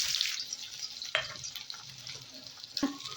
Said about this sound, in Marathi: तेल चांगलं गरम झालं आहे, त्याच्यात बारीक कट केलेला कांदा टाकतो।